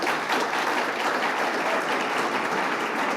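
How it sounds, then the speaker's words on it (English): Audience applause for a panel at a producer forum, a dense steady wash of clapping from a large crowd filling the room at an even level throughout. "If you could keep the applause going for our panel up here"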